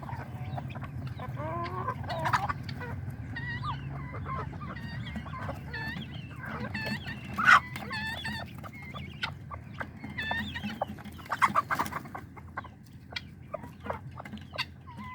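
A flock of guinea fowl and chickens clucks and squawks, with scattered sharp calls over a low background hum.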